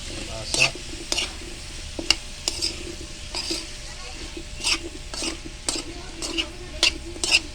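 Squash stirred in a pan with sautéed shrimp, garlic and onion, for ginataang monggo: sharp sizzling under repeated spatula scrapes and clanks against the pan, close and busy.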